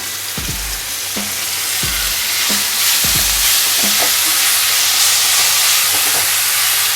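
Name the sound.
chopped tomatoes sautéing in pan with ginger garlic paste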